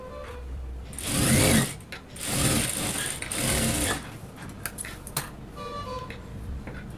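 A sewing machine stitches a lining blouse seam in three loud, rapid rattling bursts of a second or so each, followed by lighter scattered clicks and handling sounds at close range.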